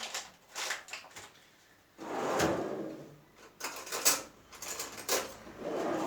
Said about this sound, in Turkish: Çekmece.